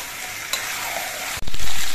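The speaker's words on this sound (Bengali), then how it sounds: "এবার এর মধ্যে আমি আলুগুলো দিয়ে দিচ্ছি। আলু দিয়ে চিকেনটা আরো কিছুক্ষণ কষিয়ে নেব।" Chicken frying in a pan with potatoes and onions being stirred in, heard as a steady close sizzle with scraping stir sounds and a sudden louder hiss as food is turned.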